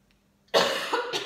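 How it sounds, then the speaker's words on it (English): A single harsh, wet cough bursts out after a brief silence, rough and close, trailing into a second rasping hack. "old phlegmy cough."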